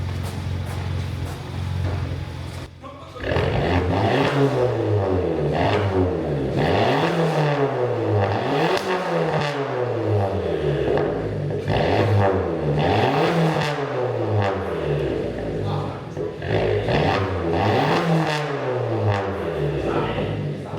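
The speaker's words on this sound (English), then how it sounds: "Let's get a rev, see what it sounds like." A very loud, raw straight-piped 1.2 TSI engine revs repeatedly in rising and falling sweeps, close by, with a harsh crackling exhaust and no talking.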